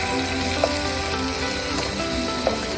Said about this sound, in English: 4 minutes pass by and I'm going to flip my fish.